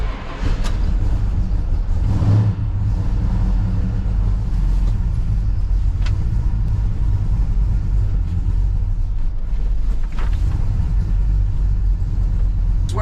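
A muscle car engine at a car show move-in idles with a low, steady rumble throughout, loud and close, with a few brief revs rising above the drone.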